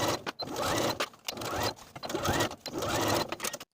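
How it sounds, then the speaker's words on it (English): A sewing machine stitches a cuff onto the bottom of a jacket sleeve with a 5/8 inch seam allowance, running in steady bursts broken by brief pauses, close and fairly loud with no talk. "Sew the cuff to the bottom of the sleeve with a 5/8 inch seam allowance"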